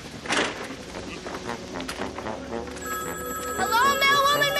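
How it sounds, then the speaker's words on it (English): A telephone rings with a bright, repeating electronic trill, following a few knocks and clatters, with a voice briefly heard beneath. "let me answer that ringing phone"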